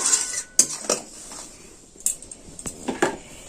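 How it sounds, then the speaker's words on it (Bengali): Sago dessert being stirred in a metal pot, with a spoon scraping and clinking against the sides in irregular taps and scrapes, close and fairly clear, with no talking. "এটা আমি আর একটু নেড়ে চেড়ে নিচ্ছি"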